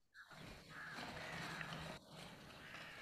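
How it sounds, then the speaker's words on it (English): Crows cawing as ambient background in a dark fantasy tabletop game session, a steady wash of calls at moderate distance with a brief dip partway through. "It's mostly just crows and things."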